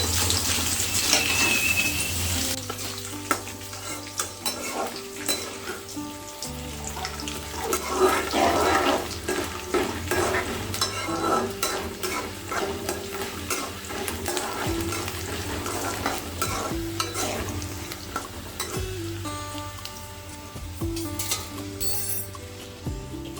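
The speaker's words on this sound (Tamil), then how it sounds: "பச்சை மிளகாவும் காஞ்ச மிளகாவும் எண்ணெய் போட்டு ஃப்ரை பண்ணுறது" Green and dried red chillies fry in oil alongside dal while cooking poha upma, a bubbling sizzle mixed with clinks and scrapes of a utensil against the pan, fairly close, without talking.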